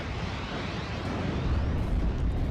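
Calliope rocket launcher barrage in Steel Division: Normandy 44, a dense continuous roar of overlapping blasts and rumbling explosions that swells slightly louder toward the end, with no voices.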